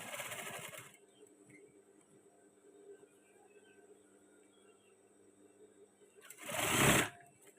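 Electric sewing machine stitching the cuff of a men's batik shirt, with a loud whirring run at the start, then quieter working noise, and a second loud burst near the end.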